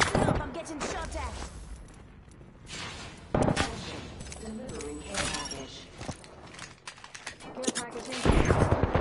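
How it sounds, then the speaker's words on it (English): Rapid bursts of gunfire from a PS4 shooter game crackle through a busy mix of game sounds, with a dense flurry near the end; a player's voice talks over the action. "Stop, I'm getting shot at."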